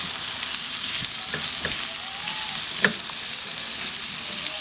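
Chopped onions sizzle and fry in a pan, a steady loud crackle broken by a few soft stirring scrapes, with no talking.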